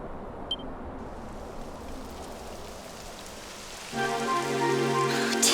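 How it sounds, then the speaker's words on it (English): Rain in the Dragon Quest XI game world begins as a soft steady patter, then a musical tone swells in after a few seconds over the continuing rainfall, faint and even. "It would have to go and start raining, wouldn't it?"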